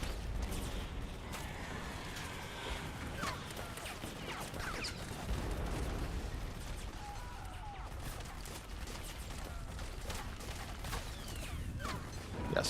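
Cannon blasts and explosions in Metal Gear Solid 4, a dense run of booming impacts and crashing debris with metallic creaks, fairly quiet and continuous across the stretch.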